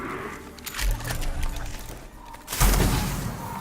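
A ranger firing at Necrons in Warhammer 40,000: Mechanicus: two heavy, booming gunshot bursts, the second louder and more sustained, with a rumbling tail over a low background hum.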